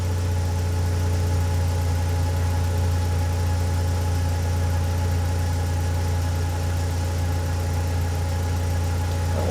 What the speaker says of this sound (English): the car's gradually getting warmer and you can hear the car's engine speeds changing